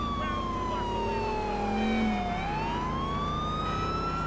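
A police car siren in the video game GTA IV, wailing with a slow falling then rising pitch sweep over a steady engine drone, loud and close, with no speech.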